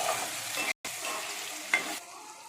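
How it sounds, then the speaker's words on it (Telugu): Chicken curry pieces coated in chili powder stir-fry in a pan, giving a steady close sizzle with scraping stirs and a brief gap partway through, then a quieter fry at the end. "కారం ముక్కలకి పట్టేటట్టు బాగా కలుపుకుంటూ ఫ్రై చేసుకోవాలి ఒక 2 మినిట్స్."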